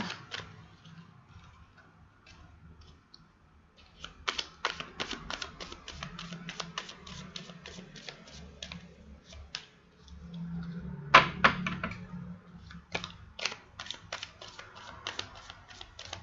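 Tarot cards are shuffled by hand close up, with quiet bursts of crisp, rapid snapping flicks separated by short pauses. No voices are heard.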